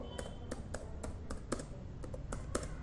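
Keys clacking on a computer keyboard while HTML code is written, about ten sharp, evenly spaced strokes at close range over a low steady background hum.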